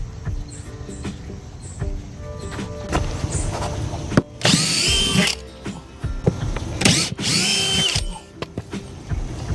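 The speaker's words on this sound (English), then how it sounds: "I'm going to start by taking all these screws out here" Cordless power drill backing screws out of wooden raised garden beds outdoors: two loud, close whirring bursts of a couple of seconds each, with lighter handling clicks and scraping between them and no talk.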